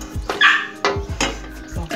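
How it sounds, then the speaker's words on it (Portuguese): Several dogs shut away in a home kitchen bark in sharp, close bursts, four or five loud yaps spaced unevenly with brief whines between them. "Desculpem aí os cachorros, tá? Porque eu tive que prender."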